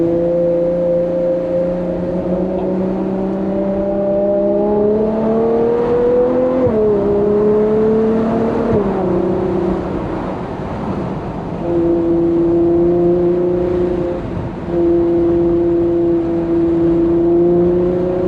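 A Ferrari 812 GTS with a naturally aspirated V12 pulls away at low speed, its loud engine droning and rising through the revs, easing briefly between gears, then settling back into a steady hum, with no talking.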